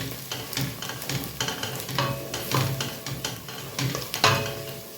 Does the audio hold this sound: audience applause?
no